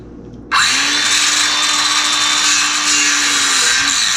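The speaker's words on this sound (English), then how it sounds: "Let's see if I can cut straight through the top." A circular saw bites into the top of a gingerbread house with a sudden loud whine that holds as a steady, close, high-pitched grinding cut for several seconds.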